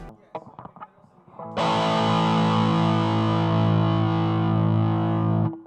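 A heavily distorted electric guitar chord rings out loud and sustained after a few quieter muted picks, thick and bass-heavy.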